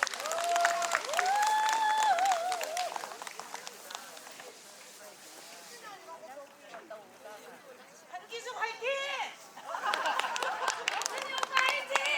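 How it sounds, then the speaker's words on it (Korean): Audience at an outdoor autumn riverside concert breaking into applause, scattered clapping rising and falling in waves with a voice speaking over parts of it. "큰 박수로 부탁드리겠습니다."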